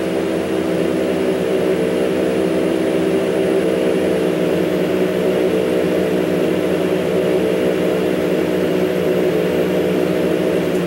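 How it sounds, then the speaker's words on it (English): Airplane engine in Grand Theft Auto: San Andreas, a loud, steady droning roar with a humming propeller tone, unbroken throughout without talking. "And there goes the plane."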